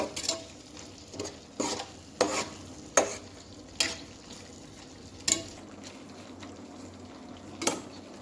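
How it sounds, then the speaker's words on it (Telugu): Chicken gizzards frying in a pan with a steady sizzle, broken by a spoon stirring and knocking against the pan at irregular intervals, close and clear, with no speech. "మన రాళ్ళగుండకాయలు బాగా ఉడికిపోయాయి బాగా ఫ్రై అయ్యాయి"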